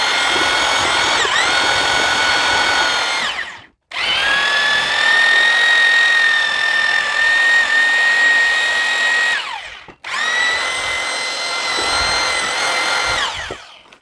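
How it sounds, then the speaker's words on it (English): A larger, slower-turning power drill with a mixing paddle churns self-leveling floor compound in a bucket, whining loudly in three long runs separated by brief stops, its motor pitch steady and close with no talking. "I'm mixing with my bigger drill because it turns a little slower"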